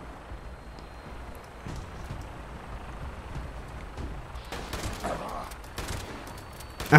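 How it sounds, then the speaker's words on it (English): Scattered gunfire crackles through a Super Mutant shootout in Fallout 76, irregular shots at middle distance over a noisy battle backdrop, with a sharp loud burst at the very end. "Guys, we have walked into an epic Super Mutant shootout."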